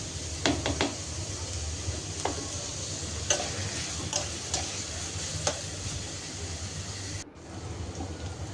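Onions fry in a pan with a steady soft sizzle while a spoon stirs them, tapping the pan in scattered clicks and knocks, and the sound briefly cuts out near the end.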